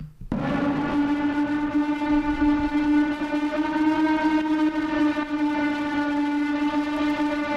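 Dry electric guitar input for a dark, apocalyptic-sounding beat, one sustained bright note ringing with strong overtones, held steadily and loudly for several seconds without talk.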